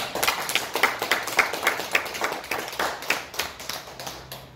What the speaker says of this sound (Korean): 그분들의 영령들을 위해서 박수 한번 치세요.